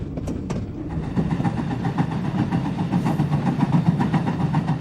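The California Skunk Train rolling through forest, a steady low rumbling engine drone with rhythmic rattling of the cars, heard alone on an old VHS recording.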